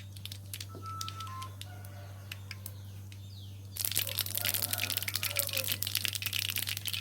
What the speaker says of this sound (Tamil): எண்ணெய் சூடாயிருச்சுங்க, கடுகு சேர்த்திக்கலாம்.